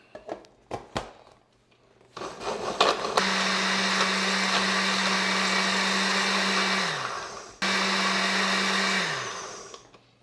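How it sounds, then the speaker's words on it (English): A blender crushes ice cubes into a drink. A few clicks and rattles come first, then two loud, steady whirring runs with a brief stop between them, each ending as the motor winds down. "Blend it up."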